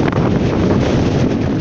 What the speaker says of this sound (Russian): Сплошной снег и лед и пронизывающий ветер.